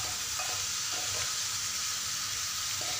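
Pre-cooked chicken gizzards go into frying masala for a Kuttanad-style gizzard chilli, a loud constant sizzle close by with a few dull stirring knocks underneath and no talk.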